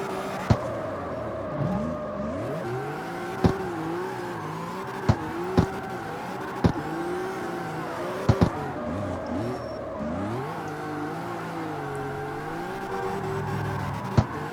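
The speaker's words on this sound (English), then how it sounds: "I kind of want to keep like one continuous slide on the e-brake there." A small car slides through a turn on the e-brake, its engine revving up and falling back in long swells, with sharp clicks and knocks cutting through a continuous rough roar up close.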